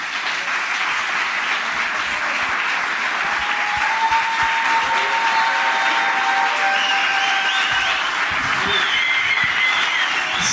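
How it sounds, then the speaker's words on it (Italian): An Italian talk show studio audience gives sustained applause as a guest is welcomed, with loud, continuous clapping and a few faint whistles or cheers rising through it. "per favore, un applauso per Massimo Ceccherini"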